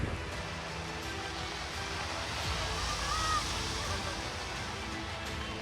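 Floodwater in Lucknow streets after torrential rain, a broad steady rushing wash of moving water with no pauses, fairly faint and continuous throughout.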